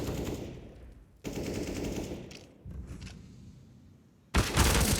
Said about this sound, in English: IHC rattling off shots.